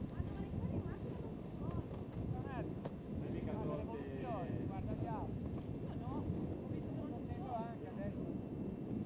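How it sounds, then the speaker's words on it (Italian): Wind buffeting a microphone on a mountainside paragliding launch at Monte Leco, a steady broadband rumble running throughout, with a few faint chirping calls and people talking nearby. "È diminuito adesso il vento."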